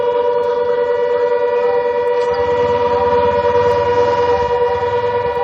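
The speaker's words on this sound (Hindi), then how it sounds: "हम सायरन की आवाज सुन भी पा रहे हैं" A loud, steady civil defense siren wails during a blackout near the Rajasthan border, its sustained tonal drone filling the air continuously with a faint low rumble underneath.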